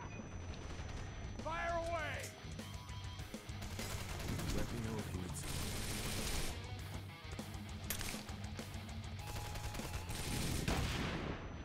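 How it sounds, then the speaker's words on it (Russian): Sustained machine gun fire from the shooter game Wanted: Dead rattles on and off amid loud, dense combat noise, with a voice talking over the action. "Там пулемет, судя по звуку"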